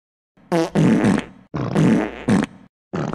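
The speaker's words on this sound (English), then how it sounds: "Second punishment, farting on you." A farting sound effect made of several loud, close, sputtering blasts in quick succession, with short pauses between them.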